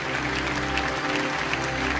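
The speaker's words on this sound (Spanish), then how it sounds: "que se escuche de verdad ese aplauso aquí en casa" A church congregation applauds continuously, a dense wash of claps over a steady low hum from the hall.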